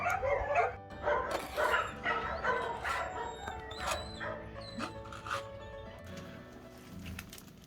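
Many dogs barking and yipping together at an animal shelter in Serbia, a loud, continuous chorus of overlapping barks with some whimpering, close and busy throughout.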